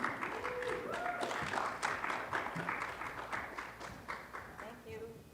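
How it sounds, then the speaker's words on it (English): Conference audience clapping as a cybersecurity panel takes the stage, a dense patter of applause mixed with voices and brief tones, tapering off toward the end. "give a round of applause,"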